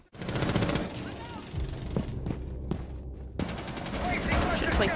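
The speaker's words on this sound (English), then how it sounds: "I shot him in the head, but I still didn't get him." Dense automatic gunfire in Rainbow Six, rapid bursts of shots fired close and loud, with a short lull in the middle before the shooting resumes with heavy, sustained fire.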